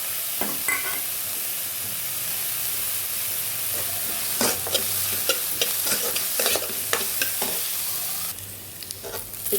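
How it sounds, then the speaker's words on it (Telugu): Onions fry in hot oil with green chilies, ginger and garlic, a loud, dense sizzle close up, broken by repeated scraping stirs and a sharper hissing burst toward the end. "ఉల్లిపాయలు వేగిపోయినవి"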